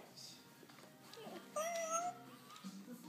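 A lifelike robot cat toy gives a drawn-out electronic meow when its belly is rubbed, one clear mid-length call in a quiet room, with faint soft voices around it.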